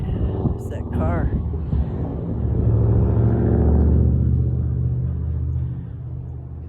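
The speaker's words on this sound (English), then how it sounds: "His mufflers were making noises before he started putting on the gas." A passing car with noisy mufflers rumbles low and swells as it accelerates, loudest midway before easing off, while a person speaks over the start.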